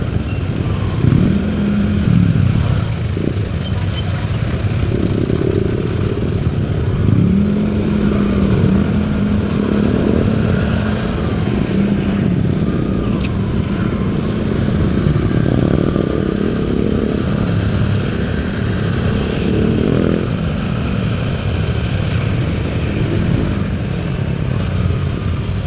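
YTX2 scrambler-build motorcycle engine droning continuously while riding through city traffic near a school in Caloocan, with the surrounding vehicles rumbling alongside and no talking.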